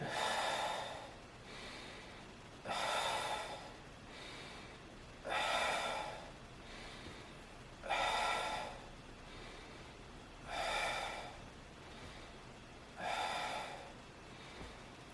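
Steady breathing during a bodyweight leg raise exercise: six evenly spaced, forceful breaths roughly every two and a half seconds, close to the mic and breathy, with quiet in between.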